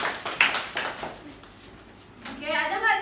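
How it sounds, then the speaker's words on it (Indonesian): Children in a classroom give a short round of scattered hand claps, fading quickly, before a voice speaks at the end. "Tepuk tangan dulu untuk temannya."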